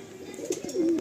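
Kala Sabuj pigeons coo in a loft in Kolkata, a short, close, low rolling coo rising toward the end, with faint rustling behind.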